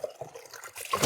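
Water runs into a bucket at a village farm for drinking, a steady close trickle and splash that grows fuller and louder toward the end, with no talking.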